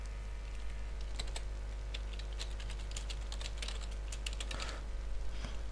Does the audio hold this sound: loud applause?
no